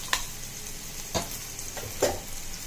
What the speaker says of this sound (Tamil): கொஞ்சமாக பருப்பு ஆட் பண்ணிக்கோங்க, உளுத்தம் பருப்பு, கொஞ்சமாக வெங்காயம், பெருங்காயம் ஆட் பண்ணிக்கோங்க